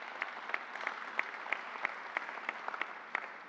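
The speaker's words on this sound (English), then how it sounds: "Let's give him a round of applause." Short, modest round of applause at a New York governor's vaccine press briefing, a small audience clapping in a steady, even rhythm for a few seconds.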